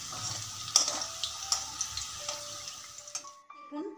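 Sliced onions frying into crisp beresta in hot oil, a steady close sizzle with scattered crackles and light utensil ticks that fades out near the end.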